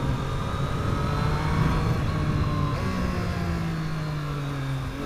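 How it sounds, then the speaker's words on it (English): A 2020 Triumph Street Triple RS motorcycle downshifts aggressively on wet, muddy roads, its engine droning steadily and loudly up close with wind rush, the pitch shifting slightly partway through. "That was a bit more of an aggressive downshift, and it wasn't jerky."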